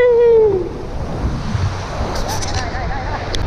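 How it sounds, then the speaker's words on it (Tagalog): Wind-blown rushing of strong sea waves around a kayak at sea, a steady broad wash with wind buffeting the microphone and a brief voice at the start. "So lumakas yung alon"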